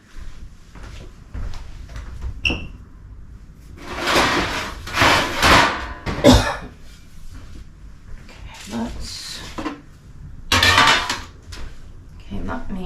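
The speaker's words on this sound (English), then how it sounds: "Let me get another pan." Baking pans and dishes clatter in a home kitchen as another pan is pulled out, with metallic scrapes, knocks and a drawer or cupboard thud in uneven bursts, and a person talking at times.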